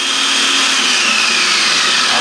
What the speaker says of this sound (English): Food processing, 2 red onions, some yellow and orange peppers